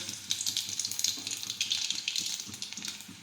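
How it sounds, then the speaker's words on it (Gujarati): Garlic, mustard seeds and cumin crackle and sizzle in hot oil, a dense hiss broken by quick popping bursts, close and steady throughout. "હવે આપણે તેમાં લસણ નાખી દઈશું રાઈ અને જીરું નાખીશું"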